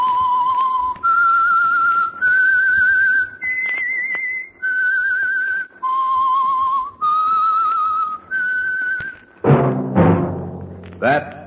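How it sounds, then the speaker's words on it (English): The whistled signal tune of The Whistler radio program: eight sustained, wavering whistled notes in a slow melodic phrase, each separated by brief gaps, followed by a voice speaking. "That whistle is your signal for the Signal Oil program, The Whistler."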